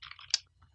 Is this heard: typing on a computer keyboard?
yes